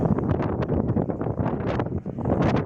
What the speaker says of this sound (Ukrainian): Дуже сильний у нас вітер, вже другий день.